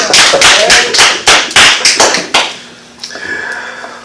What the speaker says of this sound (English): Give my son a hand clap right there.